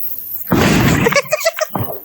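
A homemade country-style Diwali firecracker bomb bursts with a single loud, close blast, and voices talk right after it.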